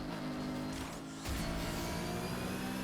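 A BMW M3 GTR race car engine in a Need for Speed video game hums steadily, then surges with a sharp rev about halfway through and holds a loud, raspy drone.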